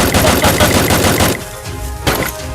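Gunfire in the mobile game Free Fire: a loud, rapid automatic burst of shots for over a second, then a pause and a few more sharp shots, with no voices.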